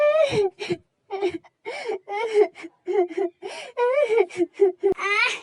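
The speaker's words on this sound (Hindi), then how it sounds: "तभी वो लोग रोने की आवाज सुनते हैं" A young girl cries in a dubbed drama scene, sobbing in broken, wavering wails with catching gasps and whimpers, close and fairly loud, and the crying continues throughout.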